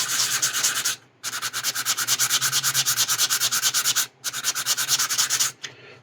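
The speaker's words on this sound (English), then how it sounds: "I'm going to sand this little spot right here a little bit more" Steady close rasping of a model being sanded with a fine sanding sponge and 800 grit wet sandpaper, rapid rhythmic back-and-forth strokes broken by two brief pauses.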